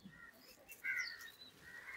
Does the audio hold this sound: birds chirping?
yes